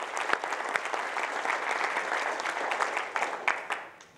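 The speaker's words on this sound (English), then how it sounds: "I'd just like everybody to give David a massive round of applause." A leadership summit audience gives a round of applause, with moderately loud, dense clapping and several sharp individual claps poking through before it thins out at the end.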